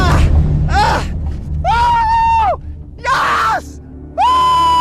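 An angler on a boat in strong current shouts in excitement after landing a giant catfish, loud long whoops and yells in bursts with brief pauses between them.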